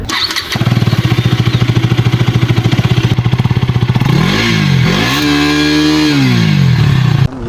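A KTM Duke 250 third-generation motorcycle, its engine now single-overhead-cam, starts with a clattering pulse, then its exhaust is revved hard in several rising and falling sweeps, loud and close with no talking.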